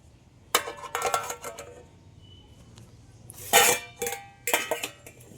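Pots, pans and steel dishes clatter and clink in a home kitchen as cooked food and freshly made luchi are served out and the pans are covered. Sharp metallic knocks come in several separate bursts over a quiet background.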